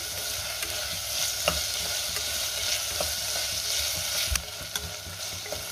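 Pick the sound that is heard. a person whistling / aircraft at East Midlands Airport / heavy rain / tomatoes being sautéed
tomatoes being sautéed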